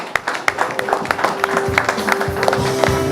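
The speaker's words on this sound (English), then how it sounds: "Huge round of applause for Janhvi Kapoor." An awards show audience applauds actress Janhvi Kapoor's Actor of the Year win, giving a dense, steady wash of clapping with cheering and music underneath.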